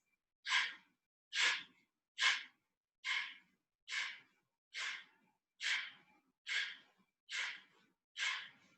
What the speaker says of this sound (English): And from here, we'll do Kapalabhati again, breath of fire. So navel to spine, fast breath.